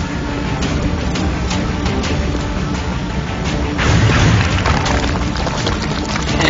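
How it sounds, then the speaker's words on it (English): Rifle fire in the turn-based strategy game XCOM: Enemy Unknown: a dense, boomy burst of gunfire and impact noise swells near the middle over a constant wash of loud game sound, with no talking. "that's not such great rifle shooting"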